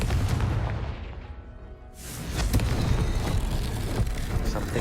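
Confringo fire spell explosion in the Hogwarts Legacy video game, a loud, continuous roaring blast with a dip and then a renewed swelling rumble, dense and booming throughout.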